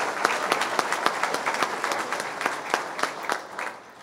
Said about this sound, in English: So I'd like to give him a round of applause as well.